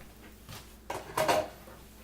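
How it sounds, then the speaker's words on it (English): Bay shrimp are tipped into a pot of seafood soup, a couple of soft splashy rustles and a clatter of a utensil or container against the pot, close by and brief. "The bay shrimp goes in."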